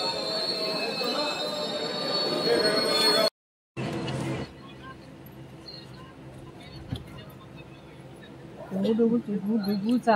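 Train wheels squeal and rumble as a passenger train pulls into Somatne station on the Konkan route, a steady metallic drone with a brief gap, then rising screeching tones near the end, with talk in the carriage.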